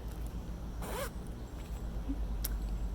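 A small zipper on a fabric notions pouch is pulled in one quick, close rasping zip, with a brief faint click afterward.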